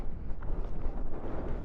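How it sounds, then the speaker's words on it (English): Gusty wind buffets the microphone outdoors beside a Ducati Multistrada Pikes Peak motorcycle, a steady, loud, low rumble with irregular surges and no speech. "It's so windy."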